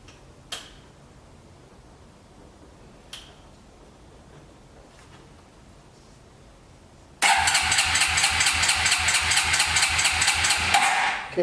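Engine of a 1998 Suzuki Quad Runner 4x4 being cranked over, a loud rapid rhythmic churning that starts abruptly and keeps going after a few faint clicks, close by with no talk.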